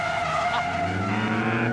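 A drifting car's tires skid and squeal under throttle, a loud close scrubbing screech over the engine's revving drone, held for under two seconds.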